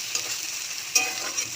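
Close, steady sizzle of onions browning in a pan while being stirred, with a sharp spoon scrape near the middle of this brief stretch.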